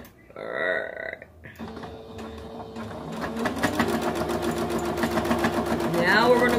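A sewing machine stitches around a fabric drawstring bag, its motor whirring up and running in a steady fast rattle that grows louder, with a voice-like sound early on.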